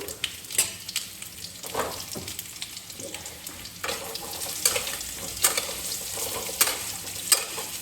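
Mango pieces sizzle and fry in hot oil seasoned with cumin seeds and dried chillies for a quick sour dal, a steady crackling hiss broken by stirring scrapes, close and fairly quiet with no talking.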